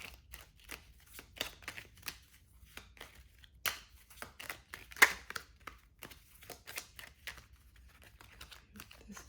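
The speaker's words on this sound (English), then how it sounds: "This deck doesn't want to shuffle." A tarot card deck being shuffled by hand gives quiet, quick riffling and flicking bursts that repeat unevenly, close and faint, with no talk over them.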